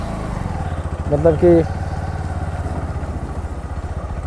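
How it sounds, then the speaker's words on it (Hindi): A Bajaj Pulsar NS 125 motorcycle with 10,000 km on it and a heating issue idles in a steady low rumble while someone talks over it, the engine running loud throughout. "गाड़ी आवाज़ भी कर रही है काफ़ी ज़्यादा"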